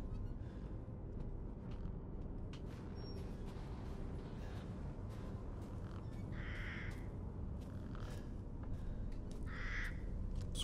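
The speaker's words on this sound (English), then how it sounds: "Those crows are annoying." Crows in the game Resident Evil Village give a few harsh caws spaced apart, mid-distance, over a steady ambient rustle and occasional clicks, with no one talking.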